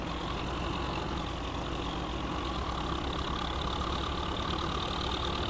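A tractor engine in Farming Simulator 15 drones steadily throughout, a constant near idling rumble hauling a rack of weights, with no pauses or voices.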